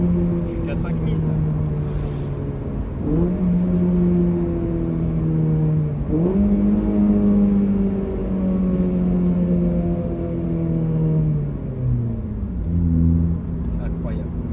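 Honda Civic Type R engine revving steadily from inside the car, with harmonic pitch sweeping up and down through repeated gear pulls around 5000 rpm, loud and continuous.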